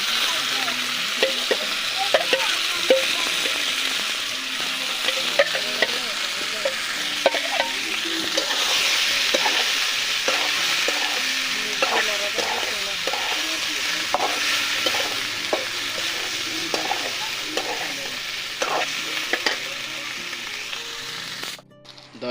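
Pasta sizzles steadily in a hot pan while a utensil stirs and scrapes it in repeated clinks and scrapes over a constant frying hiss, with a voice speaking now and then.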